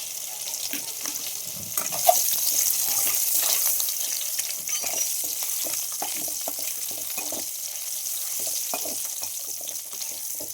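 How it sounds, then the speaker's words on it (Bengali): Eggs frying with red chili and turmeric powder in a pan, a bright, crackling sizzle that stays fairly even across ten seconds, with scattered small pops and faint stirring, no voices. "ডিমগুলোকে একটু লাল লাল করে ভেজে নেওয়ার"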